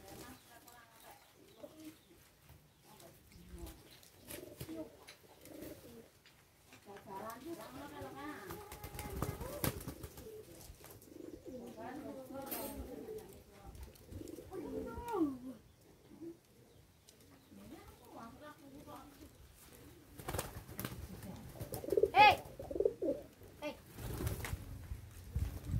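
Racing pigeons coo softly and intermittently throughout a training session, low and fairly quiet, mixed with handling noises and occasional talking nearby.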